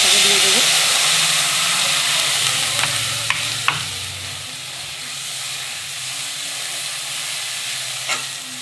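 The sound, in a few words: water poured into hot oil with tempering spices, sizzling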